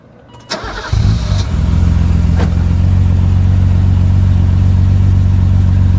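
A first-generation BMW M6 with a 24-valve inline six starts and settles into a loud, steady idle and light rev, a deep continuous engine drone heard up close with no talk over it.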